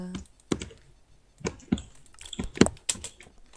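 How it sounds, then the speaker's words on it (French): Quick bursts of keyboard typing with sharp, irregular key clicks close to the microphone, a few louder taps standing out, no talking. "Donc là vous avez tous les bruits de clavier, etc."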